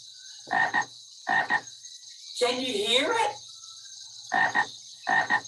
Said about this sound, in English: That's right, it's a frog.